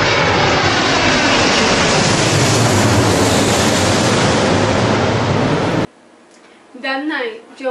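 Loud, steady roar of airplane engines at night, a dense broadband drone that cuts off abruptly, followed by a short stretch of a voice speaking over quieter background.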